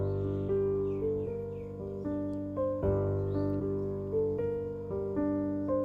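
A melodic sample played back at 1.5 times speed, giving a bouncier, sped-up feel: steady sustained harmonic tones that shift in pitch every half second or so, with no talk over it.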